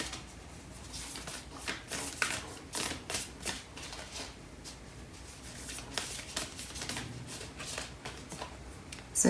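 Tarot cards shuffled by hand make a continuous papery riffling and flicking, soft and close, in dense, uneven bursts that run steadily throughout without talking.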